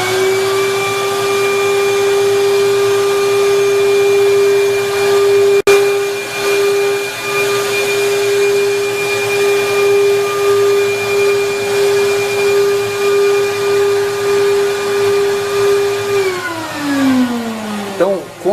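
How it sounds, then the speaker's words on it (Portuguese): An airflow test machine runs at 6 inches of test pressure with a steady, loud whine and a constant drone, holding unchanged for many seconds before spinning down near the end. "nós vamos ligar a máquina agora e eu vou colocar uma pressão de teste de 6 polegadas. Então, vai fazer bastante barulho"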